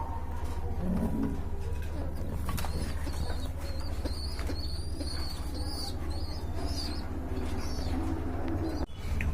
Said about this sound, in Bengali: এই যে দেখেন খুবই সুন্দর কিন্তু কবুতর জোড়া